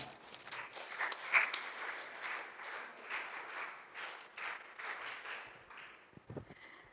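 An audience at a girls' character-building camp clapping in a loose, uneven patter of hand claps, moderately close, with a few louder bursts and a brief thud near the end.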